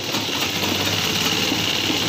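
A sewing machine runs steadily, stitching a sponge-lined reusable shopping bag, with a continuous close whirring drone and no talking.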